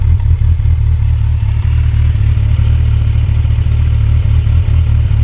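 A Kawasaki Versys 1000 SE idling through its loud aftermarket exhaust, a steady deep close rumble with a slight clattering pulse, unbroken for several seconds.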